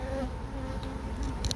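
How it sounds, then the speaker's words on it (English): Honey bees fanning in a queenless section of a hive during a relocation, a dense continuous buzzing hum close by, steady and alone with no talking. "The bees are fanning into there, but the sound is still like there's no queen in here or up this section."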